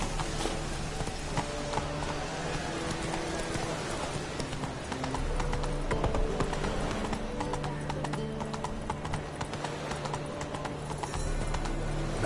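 Horse hooves gallop steadily in the Witcher 3 game, a continuous rapid clip-clop that stays loud and close under dense game music and ambience for the whole stretch.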